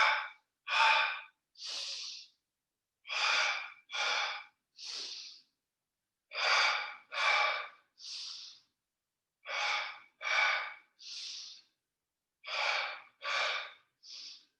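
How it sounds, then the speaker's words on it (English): Rhythmic yogic breathing in a modified Kapalabhati pattern of one inhale and two exhales, sharp forceful breaths repeating in groups of three with short pauses between, close and clear with no talking. "It's the double exhale now, so I want to think kind of like a modified Kapalabhati."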